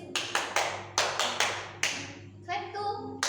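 Group of students clapping in a classroom ice-breaker, a run of sharp, distinct hand claps in an uneven rhythm, close and fairly loud, followed by a short vocal sound near the end.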